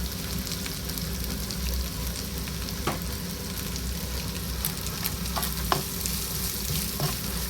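Green pepper, leek and other vegetables for Sri Lankan chicken kottu stir-fry over high heat. A loud, dense sizzle runs throughout, broken by a few sharp scrapes and clicks of a utensil against the pan.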